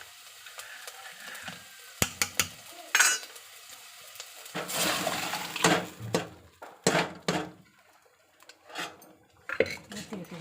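A mixture poured into a pan of banana stem and cabbage and stirred, with irregular clinks and scrapes of a metal spoon against the pan over a soft sizzle, close by, with a voice heard briefly.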